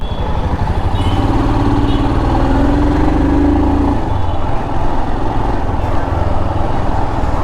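Royal Enfield Himalayan Scram 411 motorcycle with a fuel-injected engine, idling in a steady, loud, continuous low thrum close by, with no voices over it.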